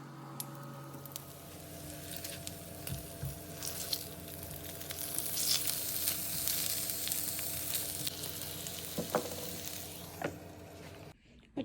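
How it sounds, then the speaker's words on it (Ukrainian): Breaded strips of fish frying in a pan, a steady close sizzle with soft crackles that swells in the middle and ends abruptly. "на пательню, хай смажеться"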